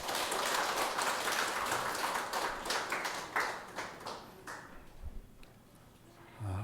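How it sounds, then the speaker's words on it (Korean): A church congregation at a Sunday worship service claps in thanks. The applause is dense and quiet at first, then thins into scattered, slowing claps that fade out near the end. "우리 하나님께 감사와 영광의 박수 올려드리겠습니다."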